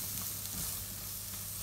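Onion sizzles in a pan, a soft, continuous frying hiss with a low steady hum underneath, close and without talk.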